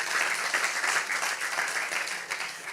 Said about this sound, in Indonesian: Boleh tepuk tangan buat Tuhan kita.